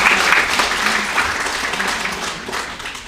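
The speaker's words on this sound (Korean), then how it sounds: "이럴 때 박수 한번 하나 주겠어요?" An audience at a city mayor's New Year greeting gathering in Anyang's 8-dong district claps together, a crowd's burst of applause that starts strong and slowly fades over a few seconds.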